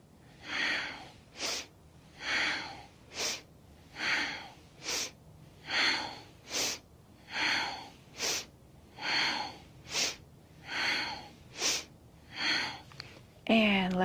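Rhythmic breathing during Kundalini yoga meditation: a steady series of about a dozen close, forceful inhales and exhales through the nose, evenly paced and alone in a quiet room.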